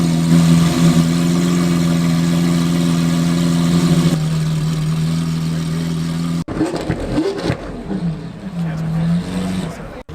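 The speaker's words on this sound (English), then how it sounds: "rev it, let's hear it." A car engine at a car show idles with a steady low hum, then after a brief cut a nearby engine revs in several rising and falling surges, loud and close, with no clear speech over it.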